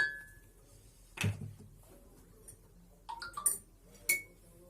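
A spoon clinks against a glass a few times while stirring water with burnt oil, sharp bright taps with short pauses between, close by and fairly quiet.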